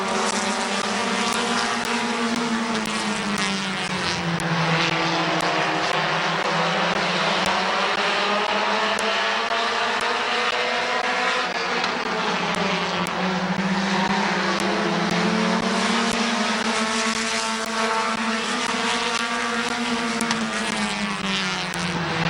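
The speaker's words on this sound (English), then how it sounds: "compact heat race." Compact race cars roar around Midvale Speedway in a heat race, a dense, continuous engine drone that rises and falls in pitch as the pack circles the track, loud and steady throughout.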